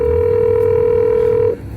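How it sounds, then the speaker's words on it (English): A loud, steady telephone call tone holds for about a second and a half, then cuts off, leaving low line hiss. "Phone call, answer it."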